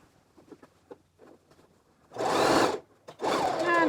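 A sewing machine understitching the facing of a skirt runs in two loud, steady whirring bursts after a stretch of quiet handling taps, close by and with no talk over it.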